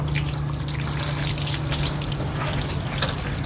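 Water running steadily while a car is being washed, a continuous close splashing stream with no talk over it.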